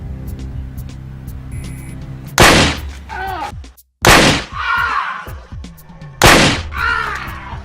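Three sharp, loud gunshots ring out about two seconds apart, each with a short ringing tail, in a tense street-address confrontation in a Nigerian movie scene; a low hum and murmuring voices sit underneath.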